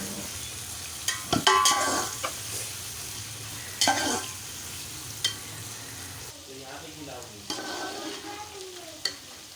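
About 1 to 1.5 kg of finely chopped onions fry in roughly 1 kg of oil in a pot, a steady sizzle with stirring scrapes and a few sharp utensil knocks against the pot, no talk.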